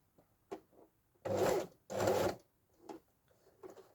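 A domestic sewing machine runs in two loud bursts of about half a second each while stitching around the edge of a fabric pocket, with softer handling clicks and taps between and after.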